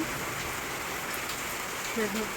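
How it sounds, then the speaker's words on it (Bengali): Steady rain falls hard and close in a wash of noise that fills the whole stretch, with a faint voice-like murmur near the end. "সবাইকে এখন কি জোরে জোরে বৃষ্টি হচ্ছে।"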